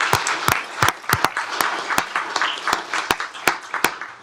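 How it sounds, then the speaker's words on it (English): A room full of people applauds at a county commissioners court meeting honoring a long-serving employee. The sound is a steady, moderately loud wash of clapping with sharp individual claps standing out, sustained for several seconds. "Let's give him a round of applause."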